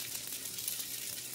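Potato pancakes sizzle in a frying pan with a soft, continuous crackling hiss, quiet and steady throughout with no talking.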